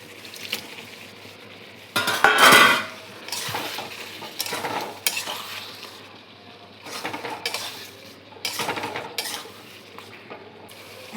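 Spoon scraping and clattering against a pan while potatoes with a little water cook down before prawns go in, irregular bursts of metallic stirring over a soft sizzle, no one speaking.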